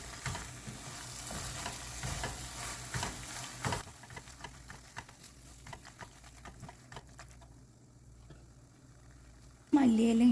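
Masala pasta mixed with torn cheese slices is stirred in a pan. Soft scraping strokes and a gentle sizzle repeat close by, fade toward the end, and a voice comes in briefly at the close.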